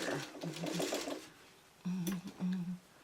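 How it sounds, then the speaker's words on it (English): Sewing machine stitching curved quilt pieces, a few short bursts of rapid mechanical whirring separated by pauses, close and moderately loud with no talking over it. "I'm going to take you 3 little stitches and then start maneuvering them together."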